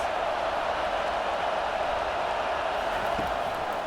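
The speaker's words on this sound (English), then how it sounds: "This crowd trying to make life miserable for this offense." Steady roar of a stadium crowd in a college football video game, Wyoming at Penn State, a loud, unbroken wash of noise with no distinct cheers or pauses.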